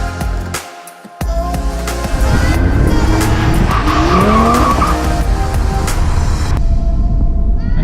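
A 2018 Audi TT RS with a turbocharged 2.5-liter five-cylinder engine and seven-speed dual-clutch transmission roars close by, revving hard with tires squealing and skidding through a turn, loud and continuous with sharp gear changes.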